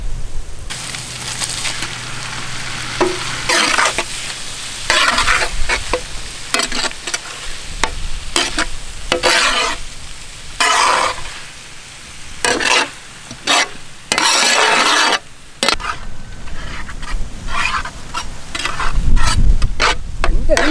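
Pieces of big eel fish meat frying in a pan and being stirred, with repeated scraping and stirring strokes over a continuous close sizzle, loud throughout with no speech.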